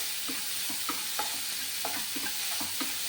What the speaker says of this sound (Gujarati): હવે થોડીક વાર આપણે આને સોતે કરી લઈએ